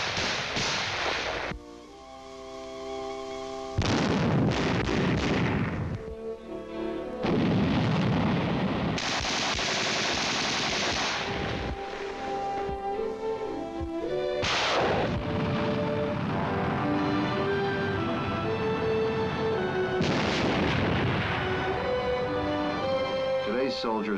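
Infantry rifle fire on a practice range with cardboard targets, heavy booming shots and bursts rising over a brassy musical score from an old military documentary, loud and echoing.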